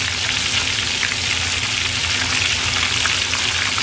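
Karaage chicken fries in hot oil with a loud, dense, even crackle that holds steady throughout, with no one speaking.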